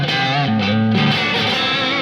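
An electric guitar plays through a Marshall amp, its EQ set with boosted mids for a thick, driven tone; a few sustained chords ring loud and close without any voices.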